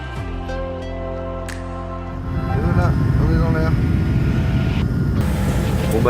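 Steady engine drone inside the cabin of a passenger plane flying from Montreal to Paris, a loud continuous rumble that swells a little louder partway through, with no clear talk over it.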